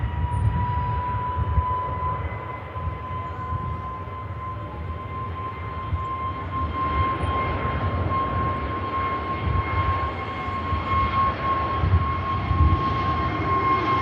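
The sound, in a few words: aircraft engine spooling up at Manchester Airport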